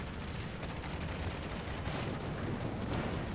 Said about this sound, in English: these are probably the best guns you're gonna get on a battleship that can focus on its secondaries